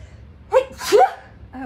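One close, sharp human sneeze in a quiet room, a short inhaled build-up followed by the explosive burst, with a brief breathy sound just after.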